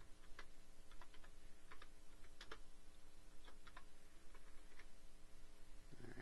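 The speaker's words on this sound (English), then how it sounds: "I'm clicking back on that just to double check" A computer mouse and keyboard click at a desk during video editing, a scattering of small, sharp ticks at an irregular pace over a faint steady hum, close but quiet, with no voices.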